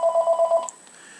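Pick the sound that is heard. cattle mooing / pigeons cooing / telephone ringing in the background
telephone ringing in the background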